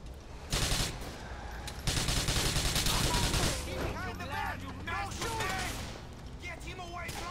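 Rapid bursts of gunfire from Grand Theft Auto 4 gameplay, loud and sustained with sharp clustered shots, and a voice talking partway through.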